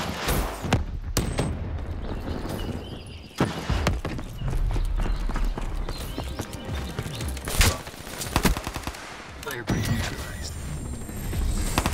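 Rapid bursts of 1911 pistol fire in a shooter game crack in quick clusters, mixed with other gunfire, footsteps and clattering action sounds, with people talking intermittently over the top.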